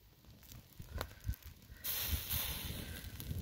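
Meat cooks over an open fire with a continuous hiss and crackle that swells louder partway through, accompanied by occasional low pops and thumps nearby.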